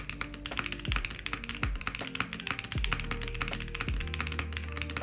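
Mechanical keyboard space bar, a Milky Way model being compared against other space bars, tapped repeatedly amid steady typing clatter, with several deeper thocks standing out in an even, close rhythm; no talking.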